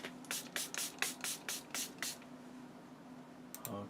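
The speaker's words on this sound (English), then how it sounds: "spray water on my brushes here." Water spritzed from a spray bottle onto an acrylic paint palette and brushes, about eight quick, evenly spaced hissing bursts up close, then a pause and two more sprays at the end.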